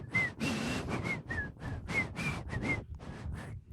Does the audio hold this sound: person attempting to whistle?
yes